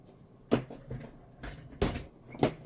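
Heavy wooden chair scraped and set down on a floor indoors, a few separate thumps and scrapes spaced out over a couple of seconds, fairly close and alone with no talk.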